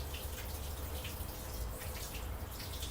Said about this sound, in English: You can hear that water, that's because my bucket of wastewater filled up.